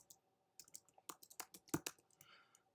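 Keys clatter on a computer keyboard in a quick, irregular run of close clicks with short pauses between bursts, quiet overall and with no speech.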